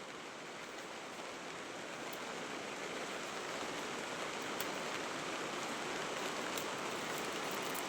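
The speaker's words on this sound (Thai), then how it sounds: "ฝนกระตกบรรยากาศก็ดี" Heavy rain pours steadily in the countryside, a dense even hiss of drops on surfaces with no pauses, fairly quiet and uniform, with no voices.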